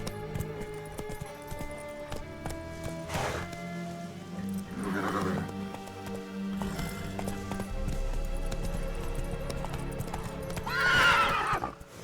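Roach the horse gallops in The Witcher 3, hooves clip-clopping in a quick, steady rhythm close by, broken by several loud neighs and whinnies, with game music underneath.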